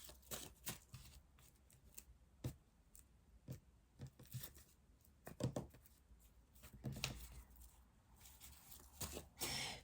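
A tarot card deck is shuffled and cut by hand in a quiet room, giving a quick series of soft riffling and snapping bursts with short pauses between them, close and fairly faint.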